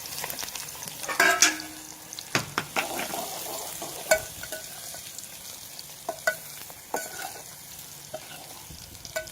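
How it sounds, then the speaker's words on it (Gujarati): Onion tempering with cumin fries in a pan over a traditional clay stove, a continuous sizzle broken by repeated scraping stirs and knocks of the spoon, close and fairly quiet. "ડુંગળીનો વઘાર"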